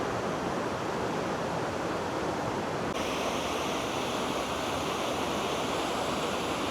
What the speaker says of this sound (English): just in the distance over there you've got a bigger waterfall